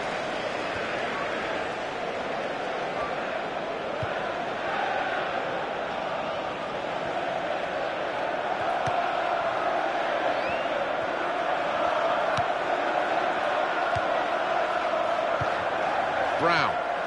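Stadium crowd noise from a FIFA football video game, a steady broad roar held throughout at moderate loudness, with a commentator's voice running over it.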